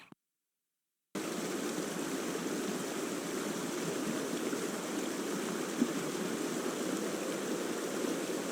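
Flowing river water in the video game Oregon Trail 4th Edition, a steady rushing wash that starts after a second of silence and continues evenly and moderately close.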